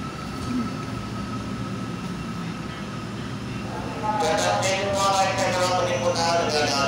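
An LRT-2 light rail train on the Recto to Cubao line pulls into a station, a steady rumble that grows louder and brighter partway through as the carriages roll in, with a voice heard faintly.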